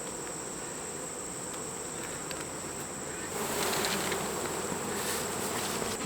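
Honey bees droning steadily around an open hive while deep frames of capped honey are harvested, a dense close buzz that swells slightly louder partway through, with no voices.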